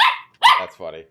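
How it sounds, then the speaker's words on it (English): A pet dog gives short, loud barks up close, with a person's brief remark mixed in among the barks. "Yeah, sorry about the dog."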